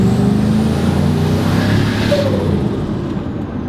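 A turbocharged Chevrolet Silverado pickup accelerates at partial throttle during an intake sound test, giving a loud, steady engine roar for about three seconds that eases off near the end.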